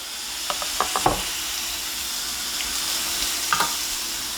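Flat patties of fatty ground beef sizzle steadily in a dry pan with no oil, a constant loud hiss broken by a few light scrapes and taps from handling.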